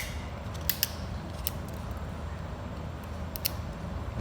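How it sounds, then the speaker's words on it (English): Excess acrylic flash being peeled away by hand from a freshly processed partial denture, giving a few faint, sharp snapping crackles spread over a quiet background hum. "Just kind of peel away the flash here."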